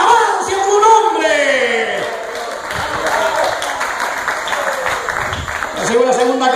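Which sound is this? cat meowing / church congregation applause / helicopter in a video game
church congregation applause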